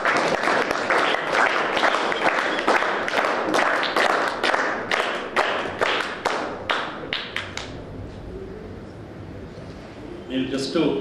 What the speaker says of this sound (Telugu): మీకు మీరు బిగ్ క్లాప్స్ ఇచ్చుకోండి